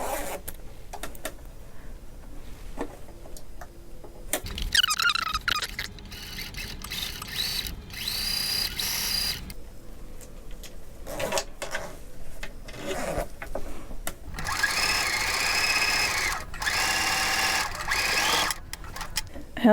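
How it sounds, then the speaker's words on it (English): Sewing machine stitching the seam of a zippered bag, bursts of fast, close mechanical needle chatter that start and stop, with quiet handling sounds between runs. "So I'm just gonna sew it close to the edge."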